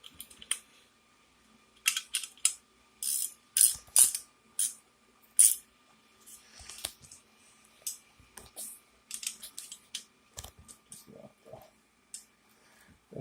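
Wrenches turn a bolt during assembly of a Firman H07552 dual fuel generator, giving bursts of close metallic clicks and ratcheting taps with pauses in between.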